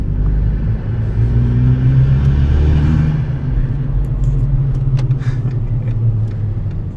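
A VW MK5 with a cold air intake and its exhaust cut off at the muffler revs loudly, a deep throaty engine roar that swells and then settles, with brief hissy bursts toward the end.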